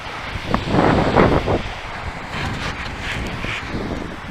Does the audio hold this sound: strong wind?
yes